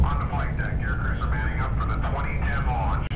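A flight-sim aircraft carrier's air boss announcement in FSX comes through as a radio-style voice, steady and filtered, layered over continuous engine and deck rumble for about three seconds.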